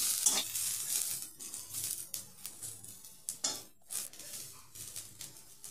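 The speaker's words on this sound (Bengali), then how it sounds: "গ্রেট করা গাজরগুলো যোগ করে আমি ভালোভাবে ভেজে নেব" Grated carrots stir-fried in a pan for vegetable chow mein, a close, soft sizzle broken by repeated rhythmic scrapes and shuffles of a spatula pushing the shreds around; no speech.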